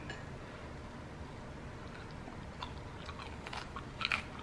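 A crispy end piece of an air-fried Vietnamese spring roll (chả giò) with fish sauce is bitten; after a quiet stretch come close, sharp crunching chews that peak in a loud crackle near the end.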